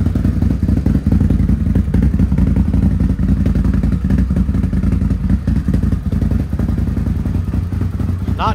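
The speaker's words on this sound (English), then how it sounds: "Go ahead and try to refire her up. Fired up pretty smooth there." A Can-Am Renegade 1000 XXC ATV under repair fires up and settles into a steady, loud, smooth idle that runs close and continuous without stalling, with no talking over it.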